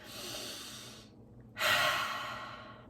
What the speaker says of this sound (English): breathing in and breathing out